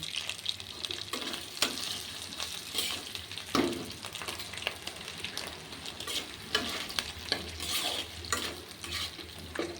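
Potatoes sizzling in a frying pan while being stirred, with repeated scrapes and light clinks of a utensil against the pan over a continuous, fairly quiet frying hiss.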